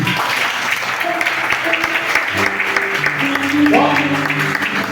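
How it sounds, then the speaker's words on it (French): A church congregation applauds during a Sunday celebration service, steady broadband clapping filling the room with tonal music or voices running underneath and swelling slightly toward the end. "Acclamez pour Jésus"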